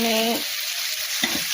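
Spice paste cooking in a little oil in a pan, giving a steady close-up sizzle with soft stirring scrapes throughout the short stretch.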